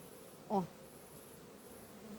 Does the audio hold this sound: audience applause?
no